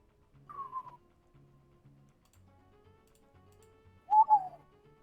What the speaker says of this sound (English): gonna give a whistle